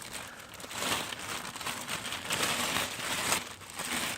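A plastic bag is handled and crinkled close by in a workshop where a GY6 scooter carburetor is being tuned, giving a continuous rustling crackle for several seconds with no talking.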